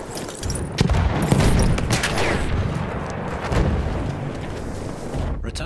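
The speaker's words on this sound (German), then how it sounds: "Ich werfe eine Granate." A grenade explosion in Battlefield 1 booms loudly amid a thick wash of battlefield noise, its heavy rumble swelling and then rolling on under steady gunfire and chaos.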